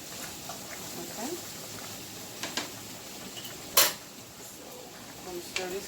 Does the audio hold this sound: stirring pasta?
yes